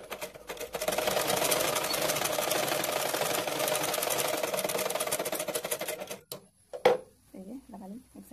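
An electric sewing machine stitches a blouse, a fast rhythmic mechanical clatter running steadily for about six seconds before stopping; a voice speaks briefly afterward.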